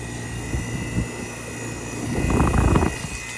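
Outdoor HVAC unit running in heat mode, a steady droning hum with tonal whine and a rough rattling swell near the end, fairly close, no talk.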